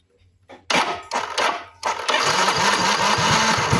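After several cranking attempts, a Yamaha Mio J scooter engine starts up close by, fitted with a new spark plug and suffering a weak fuel pump, and settles into a steady, buzzing idle.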